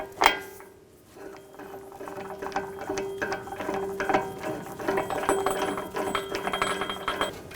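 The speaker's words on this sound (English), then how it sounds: "Press the ball joint into the knuckle." A shop press drives a new lower ball joint into the steering knuckle of a 2013-2017 Honda Accord, giving off a run of close, fairly quiet mechanical clicks and ratcheting ticks with a faint hum beneath.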